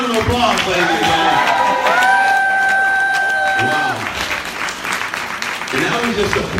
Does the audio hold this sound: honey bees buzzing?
no